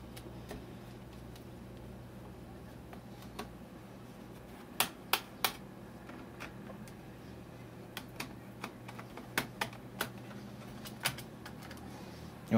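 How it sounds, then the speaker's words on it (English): Small screws being undone from a laptop hard drive with a screwdriver, sharp faint clicks and ticks scattered irregularly over a quiet room hum, some in quick clusters, with no speech. "which I know is this one, so I'm going to unscrew it now."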